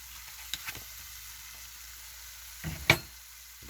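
Chopped yellow peppers that had been frozen hit a pan of cooking Philly cheese steak filling, giving a quiet, faint sizzle broken by a few short scraping stirs near the start and a louder clatter toward the end.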